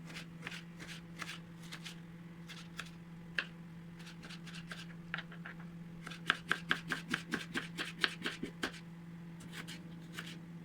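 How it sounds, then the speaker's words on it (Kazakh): An onion being finely chopped with a knife on a board for a manti filling: sharp, quiet taps come in scattered bursts, then speed up into a quick, regular run of chops. "Пиязды алып, майдалап тураймыз."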